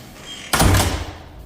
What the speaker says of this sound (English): The door don't like to close, does it?